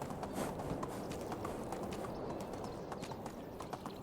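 Horse hooves clip-clop steadily at a brisk pace in the medieval survival game Medieval Dynasty, continuous and fairly close, with a soft outdoor ambience behind the footfalls.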